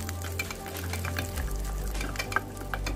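Urad dal, dried red chili and curry leaves fry in hot oil as a tempering for curd rice. A steady, close crackling sizzle runs throughout with a low background hum and no talking.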